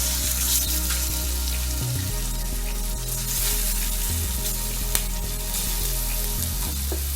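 Marinated chicken fries in hot oil in a pan, giving a steady, close, loud sizzle and crackle that runs unbroken throughout, with occasional stirring clatter and no talking.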